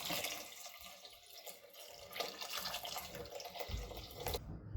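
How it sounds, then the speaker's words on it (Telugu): Water runs and splashes into a pot of cherry tomato rasam with coriander, faint and steady, with a brief louder gush near the end. "ఇప్పుడు వాటర్ వేసేసుకోవాలి"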